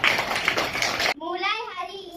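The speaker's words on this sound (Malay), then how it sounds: "Tepuk tangan untuk diri sendiri." Pupils clapping for themselves in a school setting, a burst of brisk overlapping claps from a group of children for about a second, then cut off abruptly as a voice speaks.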